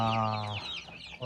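Chickens cluck close by in a short burst, beginning with a strong sustained call and then fading into softer, scattered clucks.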